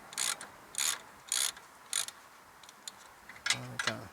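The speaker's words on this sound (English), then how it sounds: "So all I'm doing at the moment is just bringing the nut up," A ratchet runs a nut up onto a Mitsubishi 3000GT wheel hub, heard as four short bursts of clicking followed by two quicker, lighter bursts near the end. The pawl chatter is close and clear, and nobody speaks.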